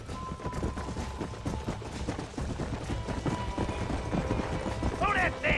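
In the video game Red Dead Redemption, horses gallop with a rapid, continuous clatter of hooves. Gunfire-like bursts and game voices mix in around the hoofbeats.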